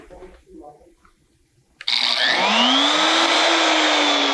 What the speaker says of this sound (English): Anytime you start the tool, the vacuum's going to come on